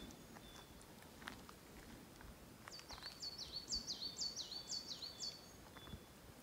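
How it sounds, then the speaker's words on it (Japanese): In a peaceful forest near Izumi Lake, a bird sings a short run of repeated high chirps partway through, faint against a soft background of rustling and low ambient noise. "鳥の声がずっと聞こえてきてね、"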